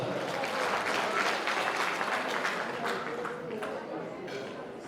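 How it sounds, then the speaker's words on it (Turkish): A crowd at a henna night celebration claps for the parents, sustained moderately loud applause with voices mixed in, gradually tapering off. "Bir güzel alkışlar gelsin anne babalarımıza"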